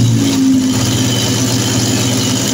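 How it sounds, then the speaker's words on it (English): A Triumph Trident T160 motorcycle engine runs at a steady, loud idle close by, a low continuous drone without speech. "Ignition on, and hopefully we'll start up."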